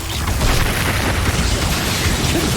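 Expulso, an explosion spell in the video game Hogwarts Legacy, lets off a loud, close blast that rumbles on as a dense, sustained roar for a couple of seconds with no voices over it.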